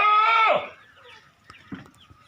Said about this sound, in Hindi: चौथे नंबर पर माशाल्लाह ये जनाब सफ़ेद चीना बकरा आ गया